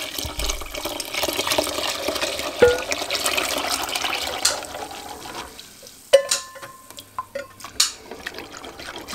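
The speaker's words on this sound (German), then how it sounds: "Wenn nötig, noch ein bisschen mehr Wasser dazu geben." Water poured into rice in a cooking pot, a steady splashing and trickling flow with a few sharper clinks and drips toward the end, close by.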